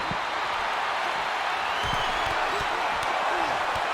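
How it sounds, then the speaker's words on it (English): Video-game wrestling crowd in WWE 2K22 roaring in a steady, dense wash of cheers and applause throughout, with faint commentary-like voices and thuds mixed underneath. "Hyping up the crowd."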